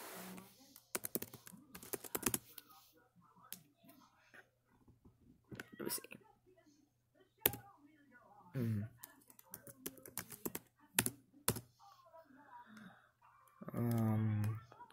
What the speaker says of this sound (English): I'm just about to start typing in